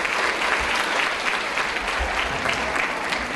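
A conference hall audience at a women's business event applauds with steady, dense clapping throughout, loud and close with a faint crowd murmur.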